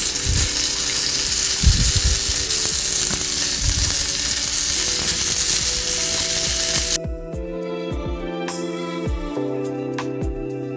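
Food sizzles and fries steadily in a pan with olive oil for about seven seconds, then the dense hiss drops away to quieter crackling with a few clinks and knocks.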